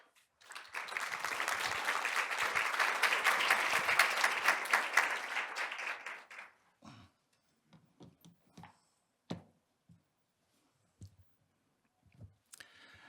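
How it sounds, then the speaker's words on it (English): Audience applause welcoming a speaker at the opening of a nuclear non-proliferation conference, a dense burst of clapping that runs for about six seconds and then dies away, leaving only scattered faint clicks and shuffles. "Would you welcome him with big applause?"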